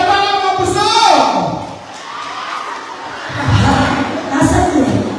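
Crowd at a Filipino noontime variety show answering the host with a swell of cheering and clapping, loud at first, dipping, then rising again; a host talks briefly at the opening.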